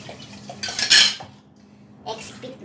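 Dishes and glass jars clatter and clink while being washed in a kitchen during marmalade making, with two loud bursts of rattling separated by a short pause.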